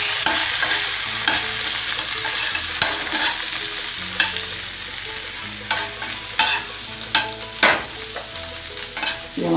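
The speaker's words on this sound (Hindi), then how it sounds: "ब्राउन होने तक थोड़ा भून देते हैं इसे। धनिया भी हम तो फ्राई कर लेंगे।" Coriander fries in a pan for tomato shorba, a continuous bright sizzle under repeated spoon-stirring scrapes and taps that grow sharper toward the end, with no talking.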